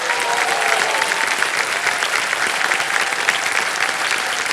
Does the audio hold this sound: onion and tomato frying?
no